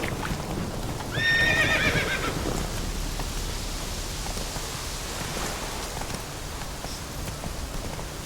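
Horse in The Witcher 3 video game gives a clear whinny near the start, with steady clip-clop of hooves continuing under a constant noisy ambience throughout.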